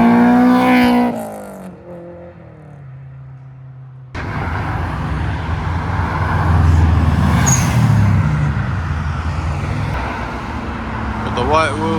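A bug-eye Subaru Impreza rolls out of a Japanese car meet in Reading, its engine rising into a loud passing rumble amid street noise and crowd chatter after a brief quieter lull.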